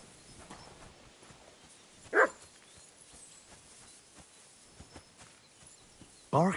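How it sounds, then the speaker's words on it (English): A dog barks in the video game Kingdom Come Deliverance 2, with two short, loud bark bursts, one near the start and one at the end, over a quiet outdoor ambience. "barking."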